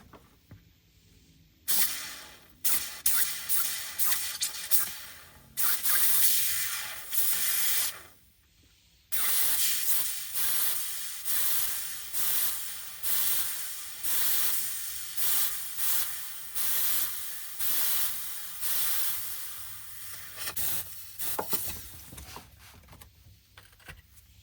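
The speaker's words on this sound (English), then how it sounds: "with some compressed air I will pressurize the jug" Compressed air hisses in repeated bursts into a transmission oil fill jug during a BMW E39 transmission service, a long blast followed by a rapid series of short, even pulses up close.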